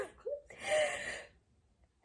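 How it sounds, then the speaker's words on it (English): A person sneezes once, close and fairly loud: a short voiced catch, then a sharp breathy burst that trails off. "Doesn't that stop me sneezing?"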